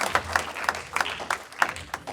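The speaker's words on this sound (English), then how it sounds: "Give him a big round of applause." Audience applause at a live comedy hypnosis stage show: a quick run of sharp, scattered claps, fairly close and moderately loud, with a low murmur underneath.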